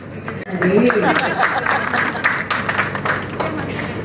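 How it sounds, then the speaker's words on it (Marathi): Audience clapping at a home baby shower celebration, a steady patter of many hands mixed with crowd chatter and a voice speaking over it. "टाळ्या वाजवा."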